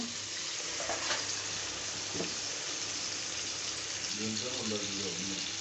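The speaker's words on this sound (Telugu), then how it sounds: "ఒక టూ మినిట్స్ వేగనిద్దాం" Vegetables for veg rice sizzle and fry in a pan, a steady close crackle with occasional stirring scrapes, and a voice talks faintly over it.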